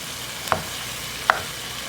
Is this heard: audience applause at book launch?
no